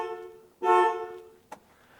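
A 1970 Ford Mustang Mach 1 horn, sounded from its rim blow steering wheel, gives one clear, strong honk followed by a very brief second tap, both close and alone against near silence.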